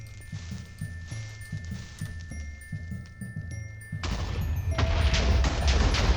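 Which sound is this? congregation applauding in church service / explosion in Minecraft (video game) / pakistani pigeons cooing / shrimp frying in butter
explosion in Minecraft (video game)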